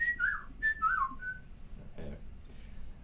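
A person whistles a short tune, with a few clear rising and falling notes in quick phrases during the first second and a half, followed by quieter background sounds.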